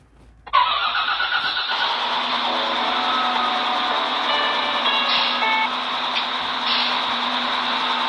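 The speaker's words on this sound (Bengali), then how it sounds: "এর উপর ইঞ্জিন স্টার্ট দিতে হবে।" Engine of a bus starting in the Bus Driving Simulator video game: a short crank catches and settles into a steady mid-pitched idle hum, with a few faint electronic tones over it and no talk.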